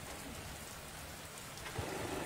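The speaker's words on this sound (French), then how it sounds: "quelques gouttes de pluie tombent doucement" Light rain falls steadily on a cloudy day in Barsalgho, a soft, even hiss of drops with no voices.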